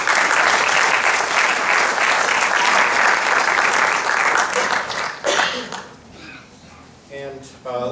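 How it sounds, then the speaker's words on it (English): A large audience at a mathematics graduation ceremony applauds loudly and steadily for several seconds before the clapping thins out and fades, with a few stray claps and faint voices at the end. "So just a big round of applause for the awards."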